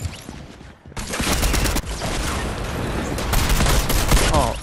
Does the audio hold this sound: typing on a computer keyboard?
no